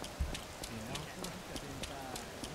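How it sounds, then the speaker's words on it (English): Rain and running footsteps on a wet road in the video game Yakuza Kiwami, heard as a steady, faint patter with regular splashy steps under a rushing rain wash. "Like it does sound like it's we are running on a wet road."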